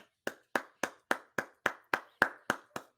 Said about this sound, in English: gonna give you a round of applause